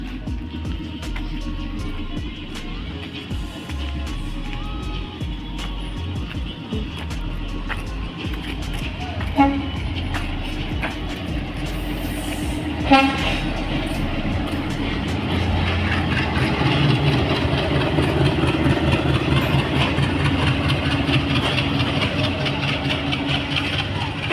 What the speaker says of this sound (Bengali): বেনাপুল থেকে ট্রেন আসতেছে এটা খুলনার দিকে যাচ্ছে